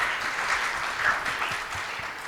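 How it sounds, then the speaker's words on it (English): An audience at a project management conference's opening keynote applauds a speaker called back to the stage. The clapping is steady and sustained, fairly distant and even in level throughout. "let's not stop applauding him"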